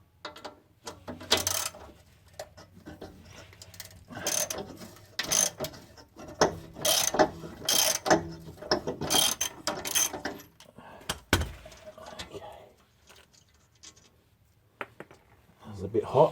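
A socket ratchet clicks in short bursts while a 16mm bolt is undone on a Toyota Previa 2TZ-FE engine during cylinder head removal, with metallic rattles and scrapes and quiet pauses between bursts.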